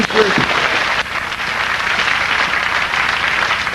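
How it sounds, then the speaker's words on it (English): A studio audience of a 2002 BBC game show breaks into loud, sustained applause, dense clapping continuing steadily after a brief voice at the start. "Studio audience, give yourself a round of applause"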